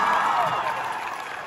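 A studio audience at a reality show final applauding a finalist, crowd clapping and cheering that starts loud and gradually eases off, with some voices mixed in.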